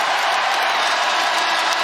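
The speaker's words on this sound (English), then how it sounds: "A standing ovation for the greatest Raptor of all" A packed arena crowd at Scotiabank Arena in Toronto gives a standing ovation for Kyle Lowry with steady, dense applause and cheering, loud and continuous throughout.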